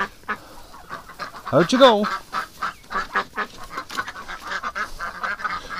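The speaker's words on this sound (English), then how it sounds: "Okay, you're silly ducks." Several ducks in a barn let out a burst of loud, close quacks followed by scattered shorter calls, while a person speaks briefly over them.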